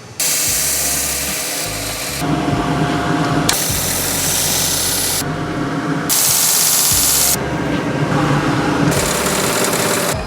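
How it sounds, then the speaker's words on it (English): Belt grinder sharpening the edge of a cheap knife, sounding as a loud, harsh grinding whine in several long passes separated by short pauses, close up with no talking. "what I'm going to use is finer and finer belts and sandpaper and all these different things to get the edge to be really refined and sharp"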